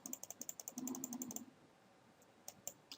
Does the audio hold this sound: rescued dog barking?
no